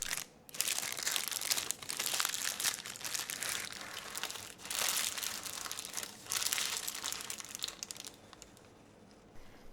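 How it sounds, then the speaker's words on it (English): Parchment paper crinkles and rustles continuously as it is pulled out from under a stovetop banana caramel upside-down cake, close and fairly loud with no talking. "Gently pull the parchment paper out from under the cake."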